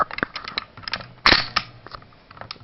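On a WE M14 EBR airsoft gun, a sharp metallic bolt clack is followed by scattered lighter clicks and rattles of handling, all close and fairly quiet.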